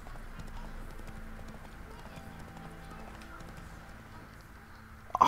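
Witcher 3 horse Roach galloping, a steady rhythmic clip-clop of hooves under game background sound, ending in a louder burst near the finish.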